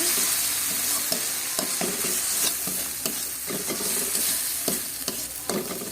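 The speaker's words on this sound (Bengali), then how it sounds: "ভালো করে কষিয়ে নিচ্ছি, নাহলে রসুনের একটা কাঁচা গন্ধ থেকে যাবে" Garlic and turmeric masala sautéing in a pan, a loud, continuous sizzle with repeated scraping and stirring strokes at an irregular rhythm, close up and without talk.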